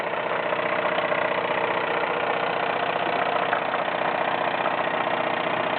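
A Wilesco D21 toy steam engine with water tower and hand feed pump runs steadily, giving a dense continuous mechanical whirr and chuffing rattle that stays loud and even with no speech.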